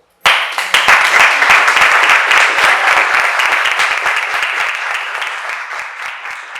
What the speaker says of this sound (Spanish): Primero que aplaudirte a vos